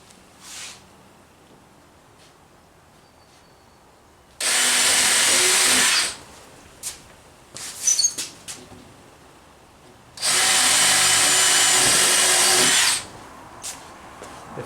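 A power drill drives screws into a plywood quarter pipe skate ramp framed with 2x4s, giving two loud sustained whirring bursts of about two and three seconds, with light clatter and handling noise between them and no talk.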